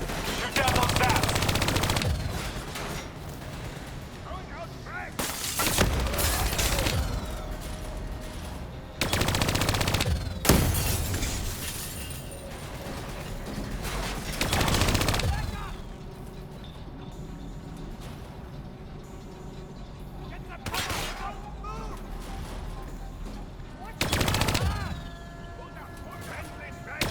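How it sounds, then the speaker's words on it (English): Repeated bursts of machine-gun fire in Call of Duty: Black Ops 3 as flying bats are shot down, loud rattling volleys separated by quieter stretches of battle noise, with voices talking at times. "Shoot down those bats."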